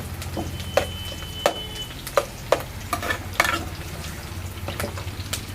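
Spices or aromatics fry and sizzle in a pan for a fish tamarind curry, with scattered scraping and stirring clicks over a steady crackle, close and fairly loud.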